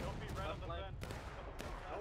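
Musket fire rings out on a War of Rights battlefield as sharp reports and rolling volleys over a dense, noisy backdrop, with voices shouting amid the shots.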